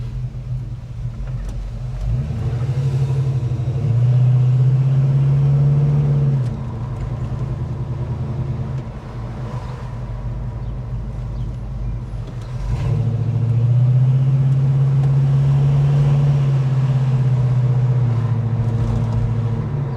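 A 1974 Ford Gran Torino Sport engine idles with a deep, steady rumble, swelling twice into louder revving surges before settling back, close and continuous with no talking.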